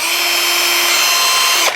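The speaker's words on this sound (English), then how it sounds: "we'll do some little holes with it and drill" IRONMAX cordless right angle drill running loud and close with a steady high motor whine, held for most of the moment before winding down abruptly at the end.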